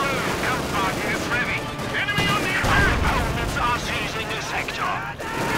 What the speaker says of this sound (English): Grenades going off there, and the Panzer grenades